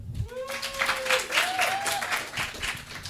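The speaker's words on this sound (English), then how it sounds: "Let's give a round of applause for Ed Wood" An audience at a live Plan 9 From Outer Space show applauds steadily, with clapping throughout and a thin tonal whistle-like sound rising and falling over it.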